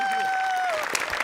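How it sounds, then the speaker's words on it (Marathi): Studio audience applause at a Marathi comedy show: a short, steady burst of clapping under a sustained musical tone, with a voice faintly present. "तुझ्याकरता एकदा टाळ्या व्हायला"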